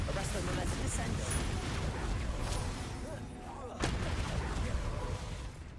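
Explosive Bombarda spell blasts in Hogwarts Legacy combat: a dense, loud barrage of booming impacts and rumble, with one sharp burst standing out near the end.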